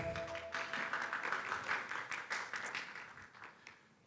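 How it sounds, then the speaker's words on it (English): An audience applauds the judges at a G20 Digital Innovation Network financial inclusivity pitching session, with steady, moderately distant clapping that fades slightly toward the end. "Let's first give a round of applause for our judges."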